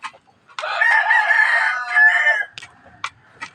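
Backyard chickens with a rooster crowing loudly and close by in one long drawn-out call, followed by a few short clucks.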